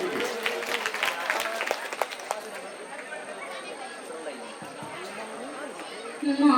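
A crowd claps to cheer on a singer at an Onamkali performance: a burst of scattered clapping that gradually thins out, mixed with crowd chatter and voices.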